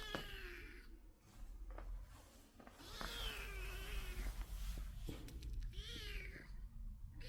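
A young stray kitten, hoarse from days of crying, mews repeatedly in high, strained cries, some drawn out, over a low steady background hum.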